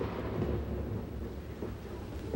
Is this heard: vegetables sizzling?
no